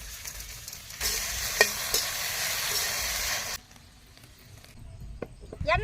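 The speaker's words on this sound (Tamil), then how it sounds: "வெண்டைக்காயை வறுத்து எடுத்துக்கலாம்." Okra frying in groundnut oil in a pan for a village-style curry, a loud steady sizzle with scraping stirs that cuts off abruptly, followed by quieter clinks and faint crackling.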